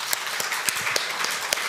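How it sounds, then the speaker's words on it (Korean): A church congregation at a Sunday service claps briefly, a soft, diffuse patter of hands with a few louder claps. "박수 한번 할까요?"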